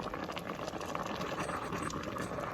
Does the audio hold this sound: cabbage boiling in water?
yes